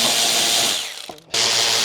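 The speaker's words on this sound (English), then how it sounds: "I am going to be using an electric ratchet just for speed." An electric ratchet spins loose 8mm bolts from an Audi glove box, a loud, steady mechanical whir that briefly cuts out near the end and then starts up again, close up.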